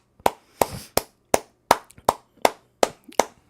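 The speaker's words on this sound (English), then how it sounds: "Everyone clap it up for Avaholic." A small group claps hands in congratulation during a livestream, giving about nine separate sharp claps at a steady pace, close and fairly loud with short gaps between them and no talking.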